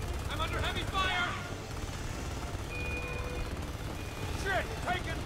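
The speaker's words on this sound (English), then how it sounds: "Under heavy fire! I'm under heavy fire!" Gunfire crackles through a Homefront video game battle, bursts of shots mixed with shouted soldier voices and a constant rumbling backdrop of combat.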